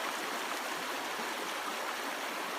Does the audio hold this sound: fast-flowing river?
yes